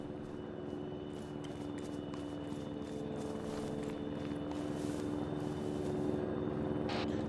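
A helicopter approaches in the military video game Arma 3, its steady rotor drone droning continuously and swelling slightly louder toward the end.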